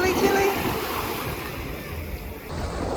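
Atlantic Ocean surf washing up on the beach at Cascais, a continuous close rush of waves with some wind buffeting the microphone.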